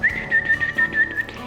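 Whistling through the teeth: a thin, steady high whistle, close and clear, with a few fluttering pitch wobbles over soft background music.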